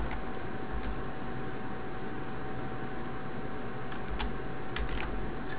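Computer keyboard keys typed while entering a channel name, a steady patter of light clicks over a constant background hiss, with a few sharper taps near the end.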